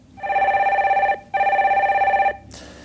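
A telephone bell rings loudly and close as a call-in connects on a Korean stock-market broadcast, two long bursts separated by a short gap.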